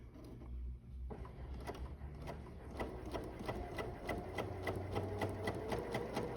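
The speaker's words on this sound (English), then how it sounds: "Love the sound of that Bernina." Bernina sewing machine stitching a quilt block in a steady, rapid mechanical rhythm, close and moderately quiet, with a brief pause before it picks up again.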